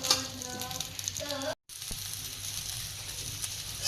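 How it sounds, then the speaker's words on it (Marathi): Cluster beans (guar) dry-roast in a pan with a soft, steady crackling sizzle that stays fairly quiet, while someone speaks over the start before a brief cut. "गवार आधी मस्त भाजून घेऊया आपण, त्याला 2-3 मिनिटं लागतील भाजायला"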